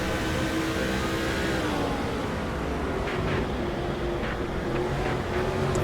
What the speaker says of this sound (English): And there goes Scott Riggs in the number 10 Valvoline car.